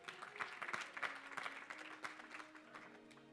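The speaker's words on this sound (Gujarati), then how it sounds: "એમને તાળીઓથી વધાવો." An audience at a religious discourse at Vadtal Dham claps to welcome and honour Ghanshyam Master, a few seconds of faint, scattered, fairly distant hand-clapping over a low hum, with no talk.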